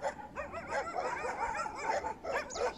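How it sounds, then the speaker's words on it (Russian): Several stray dogs bark in a rapid, overlapping chorus of yips and woofs at moderate distance, continuous throughout, with no talk. "Ой, собаки чужие бегут."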